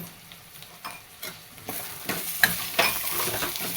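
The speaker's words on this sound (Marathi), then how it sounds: "आता आपण चांगलं मिक्स करून घेऊया तेलकटेपर्यंत" Spices with turmeric, asafoetida and garam masala are stirred into hot oil for a Maharashtrian moth bean curry: a quiet sizzle that builds, punctuated by a series of spoon scrapes and taps on the pan.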